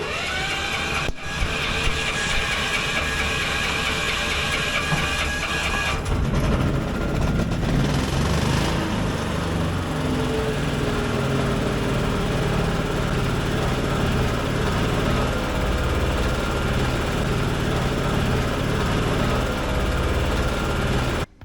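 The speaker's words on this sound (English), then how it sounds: "So I hope the battery is gonna start the engine without any issues." A pluk-o-trak engine turns over and catches, then settles into a steady, loud mechanical idle that runs continuously without pause.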